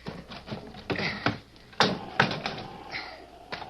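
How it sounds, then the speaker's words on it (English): Trap door swung open as a radio-drama sound effect, heard as a run of sharp wooden knocks and clunks, a couple of louder thumps near the middle, with no talking over it. "Wait till I get the trap door open."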